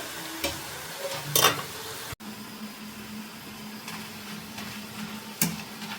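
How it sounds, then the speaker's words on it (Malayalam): Jackfruit pieces fry in oil over a medium gas flame: a constant crackling sizzle, with a few sharper scraping bursts as a spoon stirs the pieces, and one abrupt brief cut near the middle. "ഇടയ്ക്ക് നന്നായി നമ്മൾ ഇളക്കി കൊടുത്ത് വേണം പൊരിച്ചെടുക്കാൻ"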